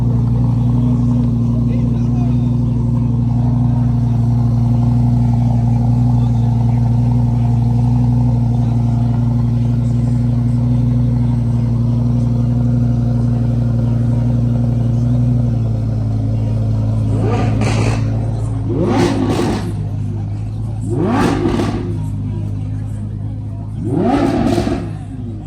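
Lamborghini Huracán STO sports car at an exotic car meet, its engine idling with a steady deep drone before a series of sharp revs blip up near the end; people talk nearby under the engine noise.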